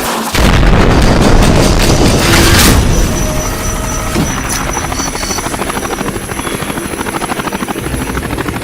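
Heavy artillery or cannon fire in an animated war film set in the Persian Gulf War: a loud booming blast up front, then a steady rapid rumble of continuous firing alongside helicopter-like rotor noise.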